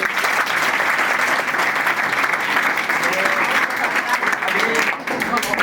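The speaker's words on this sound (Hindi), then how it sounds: "तो एक बार और ताली बजाओ।" A class of coaching-centre students applauds school toppers, a dense, steady roar of clapping held loud and close for the whole span, with voices faintly mixed in.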